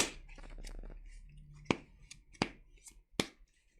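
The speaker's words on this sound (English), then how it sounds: "give it another shuffle." A deck of trading cards for a dragon-themed card game is shuffled up close, with a soft riffling flutter followed by three sharp, separate snaps as the cards are squared or tapped down, with no talk.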